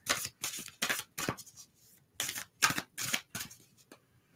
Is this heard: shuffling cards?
yes